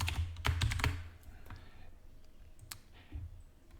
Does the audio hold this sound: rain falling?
no